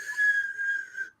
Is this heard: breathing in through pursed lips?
yes